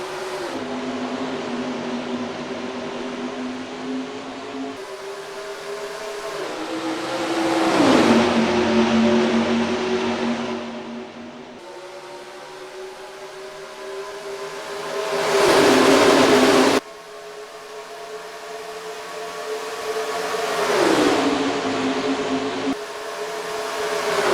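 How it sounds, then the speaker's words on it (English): NASCAR race cars in the NR2003 racing game at Las Vegas Motor Speedway under green flag racing: a loud, continuous engine drone that swells into repeated roaring surges as cars rush past, with no talking. "we are green flag racing at the Las Vegas Motor Speedway"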